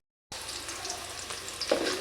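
Onions frying in a pan give a steady, close sizzle that starts abruptly and holds evenly throughout, with faint stirring crackles on top.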